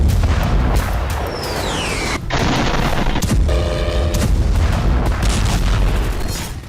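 Heavy booms and blasts from Russian missile and drone strikes on Kyiv thunder loud and close, repeated explosions jumbled with rumbling and a rising whistle-like tone.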